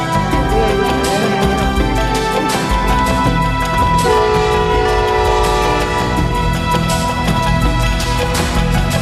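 The Ghan passenger train in Australia, a loud sustained horn blaring over the heavy rumble and clatter of the passing cars, close and continuous throughout.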